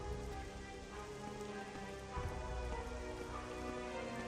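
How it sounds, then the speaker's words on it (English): Rainfall in the video game Morrowind makes an even, continuous patter at a moderate level with no thunder, holding steady throughout the short stretch. "It is still raining, sort of. Not very much."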